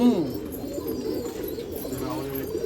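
Pigeons coo in low, throaty rolls at a pigeon festival in Nashik, a steady close murmur running beneath men chatting.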